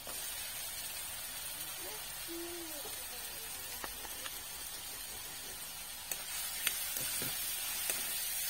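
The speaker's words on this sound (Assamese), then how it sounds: "অকণমান ভাজি লওঁ তাৰপিছতে আলু দি দিছোঁ কেইটুকুৰামান" Soft, steady sizzle of spice paste and small potato pieces frying in hot oil for an Assamese fish curry, with faint clinks of utensils and a brief voice in the background.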